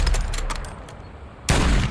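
Gunfire crackles during a Call of Duty match on Ashika Island, with a rapid burst of shots at the start, scattered sharper cracks, then a loud fresh volley near the end.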